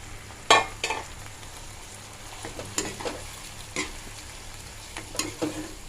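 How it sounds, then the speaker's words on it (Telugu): Salted, turmeric-coated mushrooms tossed into fried onions and stirred in a pan, giving a steady soft sizzle with a few sharp spoon scrapes and knocks spread through the mix, no talking. "మష్రూమ్స్ అన్నిటినీ కూడా ఇందులో వేసి బాగా కలపాలి"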